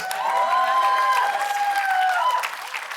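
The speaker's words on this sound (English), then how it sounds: "Light applause, I will change that." Light applause from a studio audience during a talk show segment, a brief even patter of clapping that rises quickly and tapers off after a few seconds.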